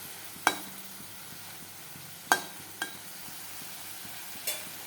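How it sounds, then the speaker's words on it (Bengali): Prawns frying in a pan in a home kitchen, a low continuous sizzle broken by a few sharp metallic clinks of a utensil against the pan. "চিংড়ি মাছটা ভাজা একটু ভাজা করে নিই"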